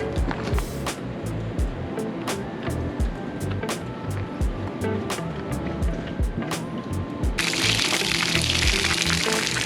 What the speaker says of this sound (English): I'm just gonna run some clear water through my hose even before I put it on the camera.